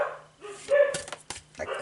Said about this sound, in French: visiblement, le toutou a quelque chose à vous dire